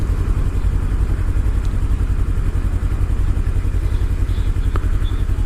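A Kawasaki Ninja 300 motorcycle engine drones close and loud while riding, a steady low rumble with a faint mechanical clatter and no voices.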